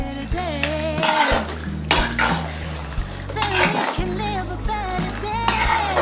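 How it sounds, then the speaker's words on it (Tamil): Pasta being mixed into pink sauce in a pan, steady wet scraping and clinking from a utensil stirring through the sauce, set against background music that runs throughout. "பாஸ்தா போட்டு நல்லா மிக்ஸ் பண்ணிடலாம்."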